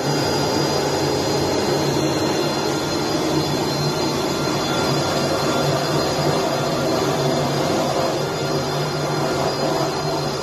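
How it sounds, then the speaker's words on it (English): A fighter jet's engine roars steadily through a vertical landing onto an aircraft carrier, a loud, unbroken broadband rush with no pauses or voices. "This fighter jet is performing a vertical landing on the aircraft carrier."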